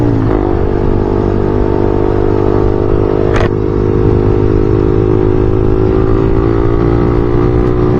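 A motorcycle engine roars loud and close through its stock exhaust pipe, holding a steady, rumbling rev for the whole stretch.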